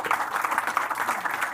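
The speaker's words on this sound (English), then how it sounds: "let's have a nice round of applause for our panelists" Brief burst of applause from a conference audience for a panel, steady clapping with no voices.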